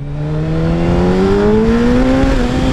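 A Hayabusa motorcycle pulls away in first gear, its loud, close engine roar climbing steadily in pitch over nearly three seconds, with no voices.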